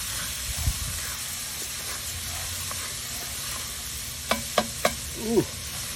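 Onion with green, red and orange peppers sizzles steadily in a pan for chili while being stirred, with a few sharp scraping clicks near the end.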